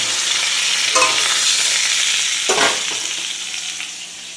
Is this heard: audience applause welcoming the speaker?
no